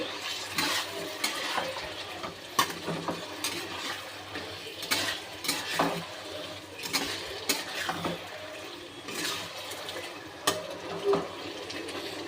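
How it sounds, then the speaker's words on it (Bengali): Masala spice paste stir-fried in a pan with a little water added, a wet bubbling sizzle broken by repeated scraping strokes of a spatula, close and continuous without talk. "আমি অল্প একটু জল দিয়ে দেবো, নাহলে মশলাটা পুড়ে যাবে। দিয়ে একটু ভালো করে কষে নেব।"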